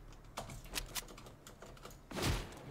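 Computer keyboard keys clatter in short irregular bursts during an arena solos game of Fortnite-style gaming, with a louder burst of clicking near the end and no talk.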